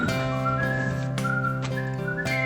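Someone whistles Wagner's Ride of the Valkyries, a clear, steady melody of held and stepping notes with a few quick rising ornaments, heard loud and close over a constant orchestral bed with no speech.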